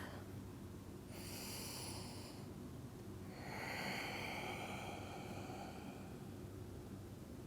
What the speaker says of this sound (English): Take 3 more Ujjayi breaths.